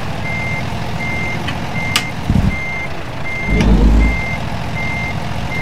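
Truck reversing beeps in American Truck Simulator, a steady evenly spaced alarm repeating over a low engine rumble, with a couple of brief clunks and a short air-brake hiss.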